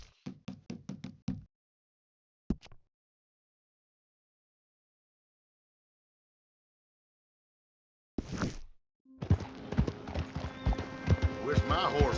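Horse hooves clip-clopping in the video game Red Dead Redemption 2, a quick run of sharp hoof knocks, a lone tap, then after a long silence denser hoofbeats under a voice.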